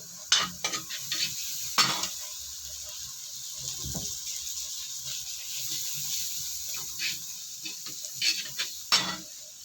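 Chopped labuyo chilies are added to a pan and stirred for spicy buffalo wings. Scattered spoon scrapes and clinks sound over a faint, steady sizzle, close by.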